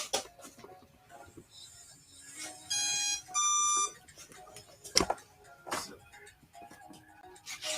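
An RX-20 radio transmitter sounds its switch-warning alarm, two short bursts of rapid beeping amid workshop clatter and handling noises, with people talking around it.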